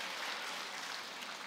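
A church audience claps together in a 'ramen clap' game during a sermon. The many hands make a faint, even patter that holds steady for a second and a half, with no talking over it.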